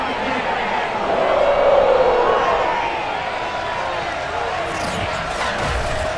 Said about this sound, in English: The enthusiasm of this Cincinnati crowd in full effect a moment ago